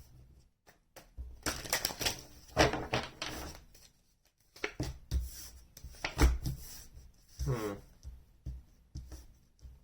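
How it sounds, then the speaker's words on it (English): Tarot cards are shuffled in several quick papery bursts separated by short pauses, close and fairly soft. "One more shuffle."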